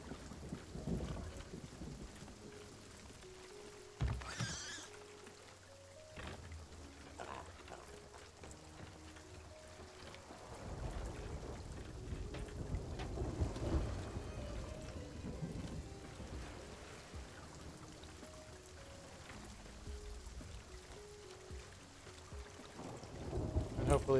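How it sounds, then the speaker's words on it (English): A video game thunderstorm rolls on for a long stretch, with a sharp thunder crack early, low rumbles and a steady wash of rain. A few quiet game tones sound over it and a voice talks faintly now and then. "Hopefully this storm will take a turn and not sit here."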